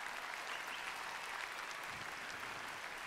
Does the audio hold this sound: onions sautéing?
no